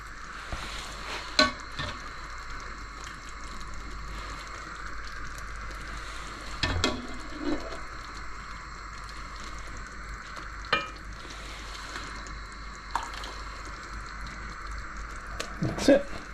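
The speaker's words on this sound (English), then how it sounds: "So at this point I'm going to move these dumplings in here." Feta dumplings sizzle steadily in a frying pan, with a constant crackle broken by a few sharp clacks and scrapes of stirring, heard close up over a speaking voice.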